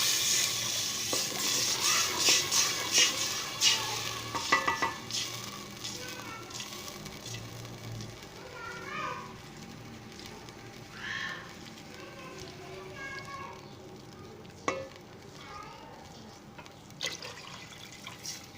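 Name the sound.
water poured into sizzling tadka for rice, stirring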